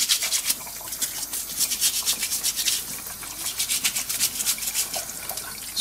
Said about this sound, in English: Just give them a scrub now.